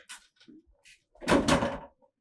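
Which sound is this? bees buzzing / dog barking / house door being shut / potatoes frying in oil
house door being shut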